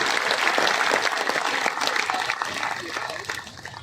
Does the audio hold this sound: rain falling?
no